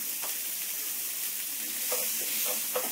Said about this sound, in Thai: ตอนนี้หอมใหญ่ผัดเนยข้าวโพด ก็ตามด้วยข้าวโพด